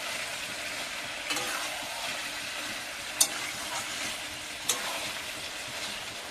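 Meat and potatoes stir-fried in a pan hiss with a steady sizzle, broken by a few spatula scrapes and two sharp clanks against the metal.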